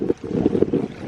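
Wind gusts buffet the microphone during a beach fishing outing, making a steady low rumble with uneven pulses that carries on throughout, with no talking.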